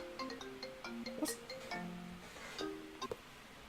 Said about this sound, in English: what's that ringing noise?